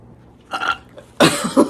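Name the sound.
loud burping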